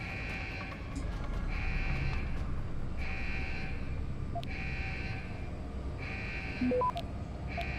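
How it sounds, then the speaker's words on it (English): An electronic alarm blares in Deus Ex: Human Revolution Director's Cut, a repeating two-tone pulse about once per second over a low rumbling game ambience, with a brief beep near the end. "Turn off the damn alarm."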